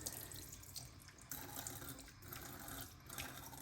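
Steady running tap water at a bathroom sink as a face is rinsed with warm and then cold water during a wet shave, a continuous faint hiss and splash throughout.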